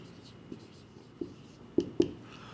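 Soft pen strokes while writing an accounting entry, with a few sharper taps and scratches standing out, close and quiet beneath faint background murmur.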